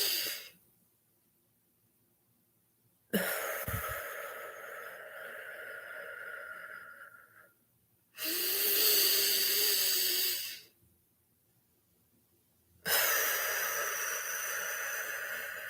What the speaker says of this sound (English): You feel a sense of calmness when you do really deep inhalations and exhale.